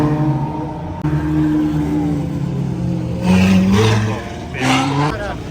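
A Ferrari F12 at an exotic car show in Canada revs with rising, wavering engine tones that swell in a few bursts, with background chatter and crowd noise around it.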